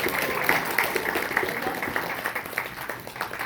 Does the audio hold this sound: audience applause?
yes